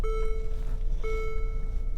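Two long, steady electronic beeps from a vehicle, nearly a second each, sounding over a low rumbling background.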